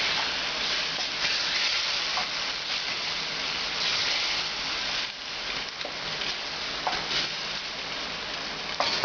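Beef bourguignon with marinade, tomatoes and onions bubbling and hissing in a pot, a dense continuous sizzle with occasional scrapes from stirring, close and loud.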